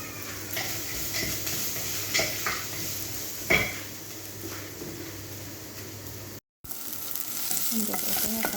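Chopped onion sautés in a pan for crab and cauliflower soup, a soft steady sizzle broken by occasional stirring scrapes and light clinks of a utensil against the pan.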